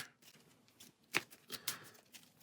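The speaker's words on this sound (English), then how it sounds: "Drawing 1, we'll shuffle and get 4 more." A deck of cards for the Hero Realms deck-building game being shuffled by hand, a quiet flurry of riffling and snapping with a few sharper flicks, close up and without talk.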